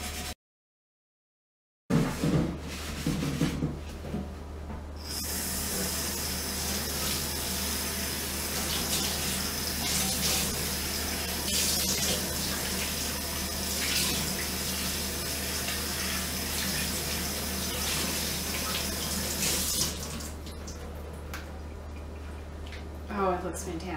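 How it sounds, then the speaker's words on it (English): A rusty cast iron skillet being scrubbed under running water, a steady loud rush of tap water with scraping and splashing throughout, starting after a moment of silence and ending with a few knocks. "So I'm going to scrub it off now that it's loosened up."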